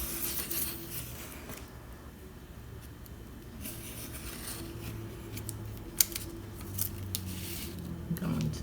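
Scissors snip through a paper collage while cutting out a junk journal tag, quiet close crisp cuts and light paper rustling, with a sharp click partway through.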